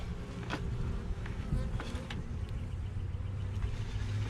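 Honeybees drawing comb inside a swarm trap make a dense, continuous buzzing hum, close and steady, with a low engine-like rumble underneath and no speech.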